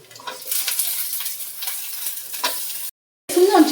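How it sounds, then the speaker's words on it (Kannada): Capsicum is tossed into a hot pan and stir-fried, giving a close, steady sizzle with scraping stirs, a brief silence, then a louder burst of frying. "ಇವಾಗ ಕ್ಯಾಪ್ಸಿಕಮ್ ಇರೋದು ಹಾಕ್ತೀನಿ."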